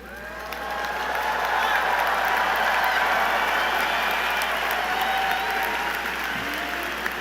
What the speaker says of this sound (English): please rise and cheer like you mean it